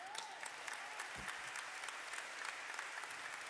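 Audience applause fills a church-style gathering, steady dense clapping at moderate distance throughout with no talk.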